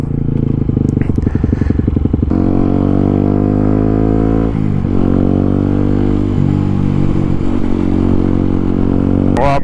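A Yamaha WR125 motorcycle is ridden, its engine droning loud and steady with a buzzy harmonic tone, shifting pitch as the rider changes speed, with some wind and clatter.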